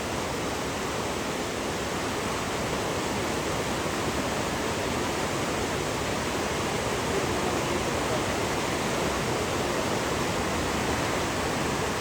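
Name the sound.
flood water surging in Poonch River after cloudburst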